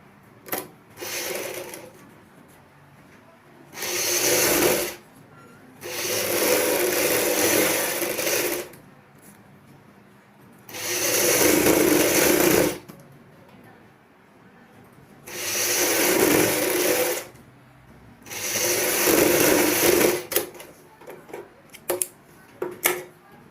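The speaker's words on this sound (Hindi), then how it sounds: "और ऊपर से बुकरम के साथ साथ सिलाई लगाएंगे" A sewing machine stitches buckram onto blouse fabric for a choli, running in loud whirring bursts of a few seconds each, separated by quiet pauses with faint handling clicks.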